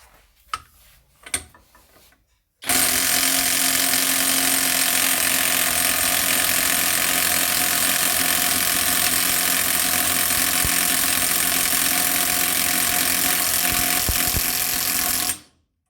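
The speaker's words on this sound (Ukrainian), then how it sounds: "Зараз ми гайковертом 750 Нм спробуємо відкрутити нашу гайку, затягнуту з моментом 1000 Нм." An ANDRMAX 750 Nm cordless impact wrench works loose a nut tightened to 1000 Nm on a test stand. A few light knocks come first, then loud, close, unbroken hammering runs for about thirteen seconds before stopping abruptly.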